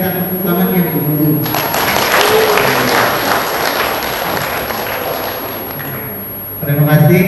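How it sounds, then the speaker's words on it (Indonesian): Sustained applause from an audience at a district health office coordination meeting, a dense wash of clapping lasting several seconds, with speech before and after it. "kalau setuju saya minta tepuk tangan yang dulu"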